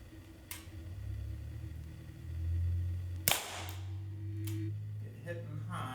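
Two sharp shots from a Gamo P-27 semiautomatic CO2 air pistol fired from a seated position on the ground, each a brief crisp crack, spaced about three seconds apart over a low background rumble.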